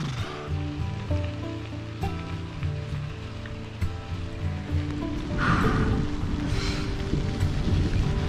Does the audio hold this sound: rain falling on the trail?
yes